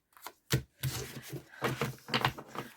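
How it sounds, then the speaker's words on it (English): A deck of soul compass cards shuffled by hand in a series of quick papery riffles and rubs, close and fairly quiet, in irregular bursts with short pauses between them. "Okay, so I'm shuffling up these cards."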